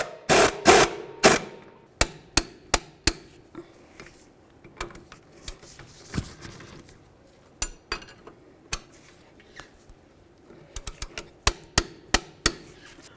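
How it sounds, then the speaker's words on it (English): Metallic clicks and clinks from tightening bolts on the front CV axle of a 2009-2020 Dodge Journey, sharp ratchet-like taps in irregular bursts, close and fairly loud with quiet gaps between. "Now let's go ahead and bottom both of these bolts out."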